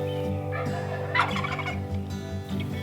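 A wild turkey gobbles loudly nearby in a rapid, rattling burst, rising over a steady droning background hum.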